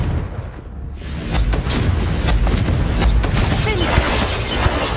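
Confringo fire spell blast in the video game Hogwarts Legacy: a loud rumbling boom swells after a second and rolls on with crackling bursts and impacts, dense and close, with a voice in the mix.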